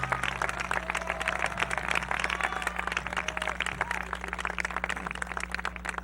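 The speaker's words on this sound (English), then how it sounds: "Would you join me in applauding them?" Audience applause for retiring teachers at the Beverly Hills High School Class of 1995 commencement ceremony, a steady wash of many hands clapping together that runs the whole time beneath a low constant hum.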